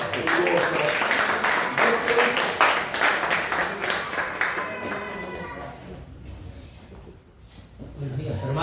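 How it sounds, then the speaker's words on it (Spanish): A church congregation at a Sunday service applauds, dense clapping filling the first half before thinning out and fading into quieter room sound. "Un aplauso cariñoso, afectuoso."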